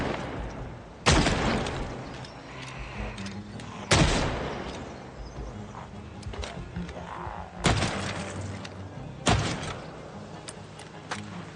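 Carbine gunfire in Project Zomboid, four loud separate shots spaced a few seconds apart, each with a sharp crack and decaying tail over a quiet background.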